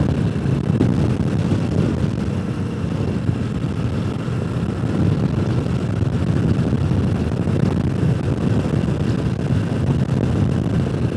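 Riding a Harley-Davidson Sportster motorcycle as it accelerates: a constant loud roar of engine and rushing wind buffeting the microphone, steady and unbroken throughout with no talking.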